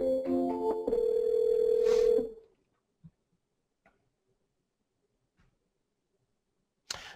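A telephone dial tone sounds while placing the next sales call, a steady electronic tone holding for about two seconds before cutting off, followed by a few faint, scattered clicks in near silence.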